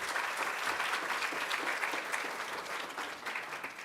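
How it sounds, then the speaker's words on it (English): An audience at a community talk event applauds steadily for a group of interns, a continuous patter of many hands that fades slightly toward the end. "Give them a round of applause."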